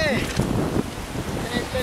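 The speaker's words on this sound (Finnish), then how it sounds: "Ihan hirveä tuuli." Strong wind buffets the microphone at a lake during a fly-fishing trip in Kainuu, Kuhmo, Finland, a continuous loud rushing roar with gusty swells throughout and no speech.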